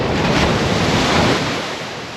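Big waves crash and surge along a rugged, untamed Seychelles coast of giant granite rocks, a loud, continuous wash of surf with wind buffeting the microphone, easing slightly toward the end.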